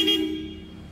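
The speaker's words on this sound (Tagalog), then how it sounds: "Super lakas naming busina." A loud horn upgrade fitted to a Toyota Yaris Cross gives one steady, bright honk that fades over about a second, heard alone with no talk.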